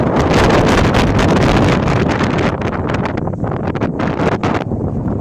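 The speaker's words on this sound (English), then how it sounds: "but the wind got to me" Strong wind buffets the microphone on top of Sunday Hill, a lookout along the Trans Labrador Highway, as loud, steady gusty roaring with rustling bursts throughout and no talking.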